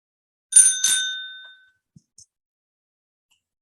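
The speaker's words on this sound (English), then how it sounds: "Thanks for the bell." A bicycle-style bell dings twice in quick succession, bright and ringing out briefly in an otherwise quiet room during a talk, followed by a couple of faint small knocks.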